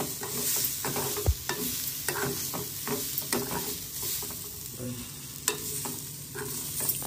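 Green chilies and seasoning spluttering in a hot pan for curd green chili dish, a steady close sizzle with sharp pops and crackles scattered throughout and no talking.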